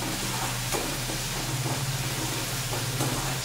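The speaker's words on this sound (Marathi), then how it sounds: "छानपैकी भाजून घ्यायचं, गुलाबी होईपर्यंत भाजायचं कांदा टोमॅटो" Onion and tomato roasting in a pan, a steady dense sizzle and hiss close up with faint stirring scrapes, continuous and even throughout.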